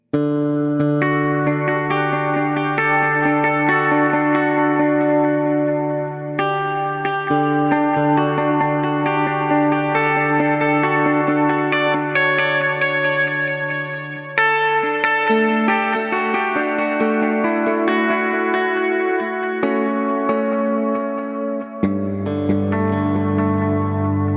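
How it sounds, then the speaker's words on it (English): Sustained electric guitar chords ring out through a Line 6 Helix with parallel stereo delay and reverb, each trailing clean delay repeats that spread into a wide reverb wash; no voices. "the delay repeats will not be processed with the reverb and makes for a cleaner delay sound"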